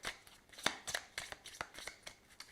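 Tarot cards handled and laid down on a table during a reading, a series of crisp close slaps and papery rustles in irregular rhythm, fairly quiet with no talking.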